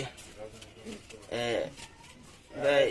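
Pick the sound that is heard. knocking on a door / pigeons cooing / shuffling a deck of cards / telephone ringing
pigeons cooing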